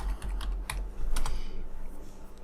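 Quick keystrokes tap out a file name on a computer keyboard, about a dozen light clicks in a fast burst, close and clear over a low background hum, no talking.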